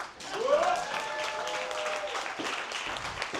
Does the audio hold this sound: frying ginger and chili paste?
no